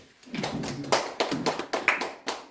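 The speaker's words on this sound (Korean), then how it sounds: "자, 이거 박수 한번 합시다" Scattered hand claps at a church reform forum, a handful of distinct, uneven claps from a small audience, close and fairly quiet, without talk.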